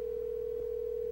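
A telephone ringing tone heard through the handset while calling grandma, one steady unbroken tone at an even level with no voices over it.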